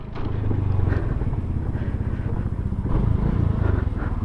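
Honda Beat Street scooter with a naked handlebar on a test ride, a low, steady, throbbing engine putter heard close up, with a faint clattering pulse and slight rises as the throttle opens.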